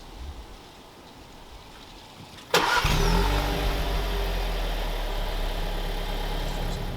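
Stock Volkswagen Jetta exhaust fires up abruptly after quiet, then a steady low, loud drone while cruising at about 45 mph, with no talking.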